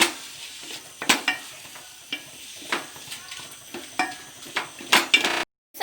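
Scrambled egg being stirred into noodles in a pan, with a utensil scraping and tapping the pan in irregular close strokes and a faint sizzle underneath, followed by a brief cut to silence near the end.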